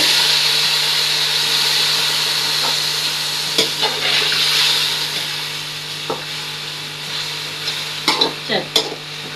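Chicken for a chicken pulao sizzles steadily in a pot, a loud continuous hiss joined by a few sharp scraping stirs toward the end, with no talking.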